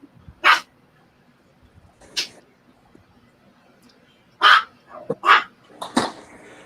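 A dog barks in a handful of sharp, separate yaps, a few early and a closer cluster of several barks near the end, with quiet stretches between.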